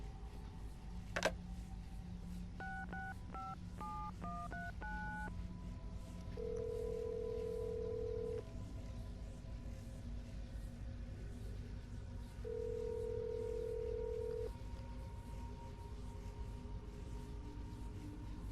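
In Assassin's Creed Brotherhood, a telephone is dialed with a quick run of tone beeps, followed by two longer steady tones separated by a pause, faint over a low background hum.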